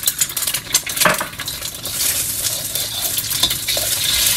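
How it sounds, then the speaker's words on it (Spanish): Egg white stir-fried in a pan for Chinese-style fried rice, giving a steady sizzle with scraping stirs and light clinks of a utensil against the pan, fairly close and continuous with no talk. "Bien, lo voy a saltear primero la clara."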